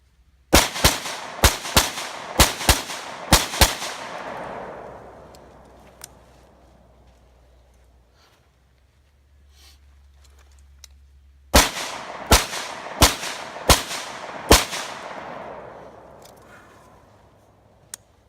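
Assault rifle gunshots in two bursts of sharp, loud single shots, about five quick reports each, separated by a quiet stretch with faint background noise.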